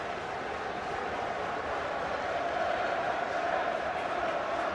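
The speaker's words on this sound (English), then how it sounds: "It's got the Watford fans cheering though." Watford football fans cheering in a packed stadium during a match against Manchester United, a broad, continuous crowd roar that swells slightly, heard at a distance beneath a commentator's voice.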